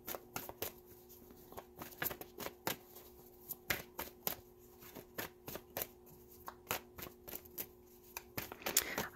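Tarot cards are shuffled by hand in quick, irregular bursts of crisp riffling and slapping, close and fairly quiet, with short pauses between groups and no talk.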